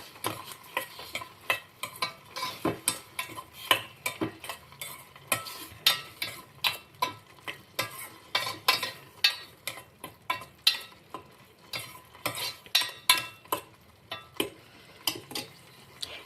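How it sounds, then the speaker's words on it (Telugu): A spoon stirs sugar into a sweet milk mixture, scraping and clinking against the vessel in a steady, fairly quick rhythm of sharp strokes, close and clear with no talking. "ఇప్పుడు దీన్ని బాగా కలుపుకుందాం"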